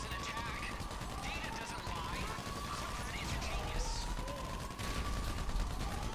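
Repeated shots from a Mark II gun in a video game crackle in quick bursts under a busy, noisy game soundtrack, with people talking over the action.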